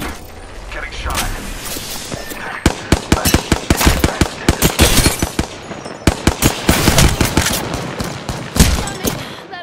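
Rapid bursts of gunfire strike a player character in the video game Apex Legends, with dense clusters of sharp, loud shots in quick succession and a steady game background bed beneath them.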